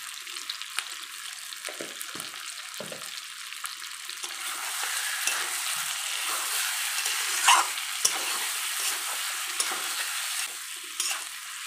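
Potatoes and eggs with turmeric sautéing in a pan, a steady close sizzle with scraping stir strokes running throughout and no voices.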